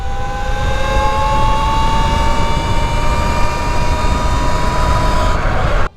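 Two Talaria XXX Pro electric dirt bikes, one on a dirt wheel setup, launch hard and accelerate together, a loud steady motor whine with rising tones sustained throughout before cutting off abruptly at the end.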